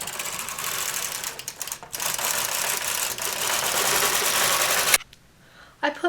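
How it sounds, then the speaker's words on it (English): A knitting machine carriage sweeps across a full row of stitches on a short-rowed baby blanket, making a loud, close, continuous clattering rattle for about five seconds before it stops abruptly and leaves near silence. "I want the carriage to knit all the stitches, so I'm going to take it off hold just for this one row"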